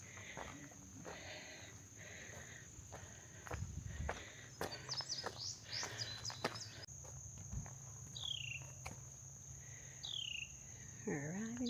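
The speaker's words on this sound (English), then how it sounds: "We have birds singing to us." Birds sing on a mountain trail in a state park, several chirps and rising whistled calls scattered over a steady high insect buzz, with faint footsteps nearby.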